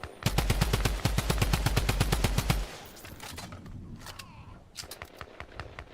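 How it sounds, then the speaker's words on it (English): A drum gun in Fortnite fires a rapid burst of about twenty evenly spaced, loud, close shots, then stops; a few scattered distant shots and faint game noise follow. "The drum gun had a little more kick than I thought"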